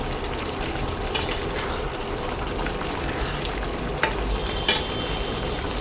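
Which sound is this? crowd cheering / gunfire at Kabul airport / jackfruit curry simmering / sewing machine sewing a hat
jackfruit curry simmering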